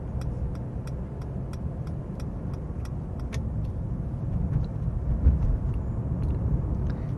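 A car drives along a road and changes lanes with a steady, close low engine and tyre rumble inside the cabin, while a turn-signal ticks in a regular rhythm during the first half.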